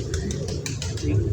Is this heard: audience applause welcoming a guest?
no